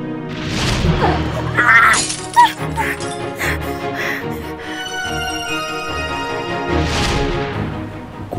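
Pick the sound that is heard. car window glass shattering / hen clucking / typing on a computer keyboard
car window glass shattering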